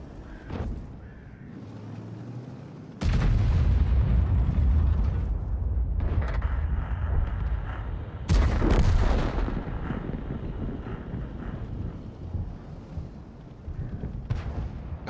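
Artillery fire in an online video game: heavy booming cannon blasts with sharp onsets at about three and eight seconds, each followed by long rumbling roars and mechanical clatter, loud and close.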